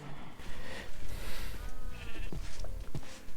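Sheep bleat repeatedly in a Minecraft pen alongside cows, several wavering calls overlapping close by against a dense, noisy background.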